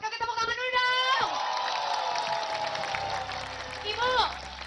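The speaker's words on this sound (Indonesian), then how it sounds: "Kasih tepuk tangan dulu dong." Studio audience at an Indonesian TV music show clapping and cheering loudly, a dense sustained wash of applause with excited shouts and whoops, overlapping a presenter's voice at start and end.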